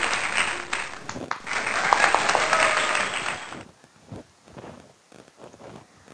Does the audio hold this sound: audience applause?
yes